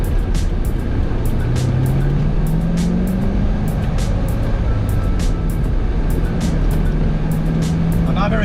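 A 2002 Chevrolet Corvette C5 driving along, a steady broadband engine and road rumble held at constant loudness throughout, with a faint rapid ticking on top and a slight tone rising in pitch.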